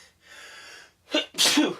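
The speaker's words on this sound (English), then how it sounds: "Oh, damn sneezes." A single close, loud sneeze: a drawn-in breath followed by a sharp, explosive burst.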